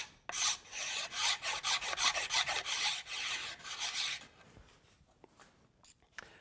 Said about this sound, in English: I'm just going to use a pocket knife.